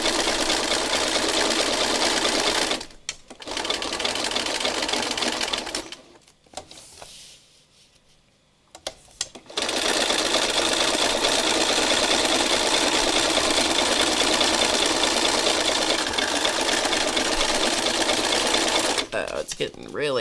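A sewing machine runs in long, loud, steady stretches, close by, stitching fabric coated with acrylic and metallic fabric paint, with one pause partway through and a person talking over it.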